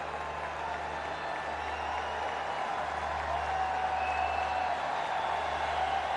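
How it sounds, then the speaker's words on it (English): Stadium crowd at a Pakistan vs West Indies ODI cheering Imam Ul Haq reaching his half century, a broad, distant roar and applause held steady throughout, with no voices standing out. "The local boy gets a huge cheer from the crowd"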